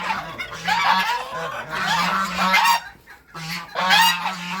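A flock of geese honks loudly and continuously at close range, harsh overlapping calls filling the scene with a short lull near the end.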